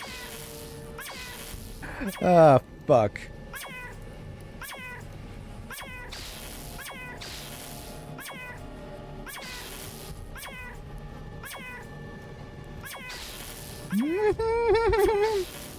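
Cats meowing in a video game, repeated short meows at a steady pace with louder drawn-out yowls near the start and end, close and clear while someone talks and swears over them.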